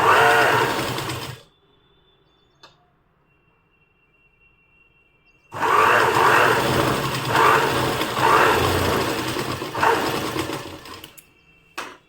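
Sewing machine stitching cloth for a handmade mat, running in two steady bursts separated by a quiet pause, with the second run longer and close by.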